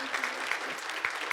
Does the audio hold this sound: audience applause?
yes